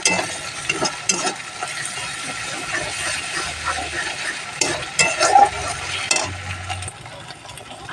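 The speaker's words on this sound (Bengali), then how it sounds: "আদা বাটাটা একটু কষাবো, এটা বেশি কষাবো না।" Ginger paste frying in a pan as it is stirred, giving a moderate sizzle with scraping stir strokes and soft hissing bursts over about eight seconds.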